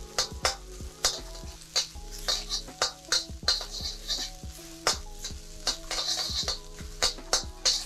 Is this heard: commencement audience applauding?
no